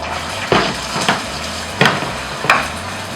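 Olive oil frying in a very hot pan for fried rice, a steady crackling sizzle with a few sharper clanks of stirring at regular intervals, close and fairly loud, with no voices.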